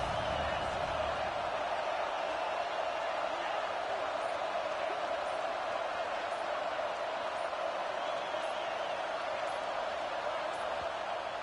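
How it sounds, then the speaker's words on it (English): A stadium crowd at a college football game roars steadily through a late fourth-down defensive stand, a broad sustained wall of cheering heard from within the stands. "this crowd is coming to help the defense"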